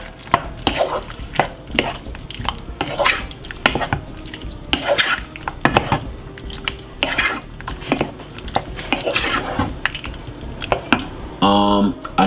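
Chicken stew with ketchup and sweet chili sauce being stirred in a pot, a steady run of close scraping and clinking utensil strokes against the pot with light bubbling underneath.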